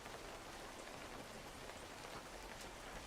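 Steady in-game rain from a fishing game built in Godot, a dense even hiss of falling drops with no breaks, moderately loud and alone throughout.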